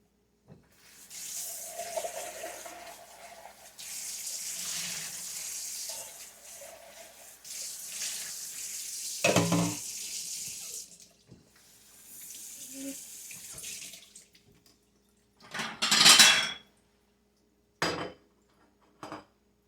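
Water running from a kitchen faucet into a sink and draining while chili is being made, in intermittent bursts with gaps of quiet, plus a few clanks of pots and utensils close by.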